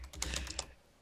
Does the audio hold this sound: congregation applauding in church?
no